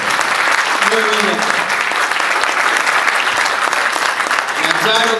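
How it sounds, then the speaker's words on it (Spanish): Sustained crowd applause fills an outdoor Partido Colorado political rally in the Cerro, loud and steady throughout, with brief voices rising through the clapping near the start and end. "Muy bien, un aplauso a Charo."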